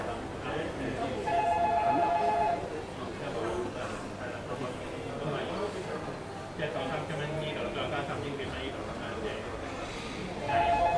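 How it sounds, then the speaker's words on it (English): A telephone rings in short electronic bursts in a Hong Kong electronics shop, once near the start and again at the end, amid busy chatter and background voices. "The phone is ringing."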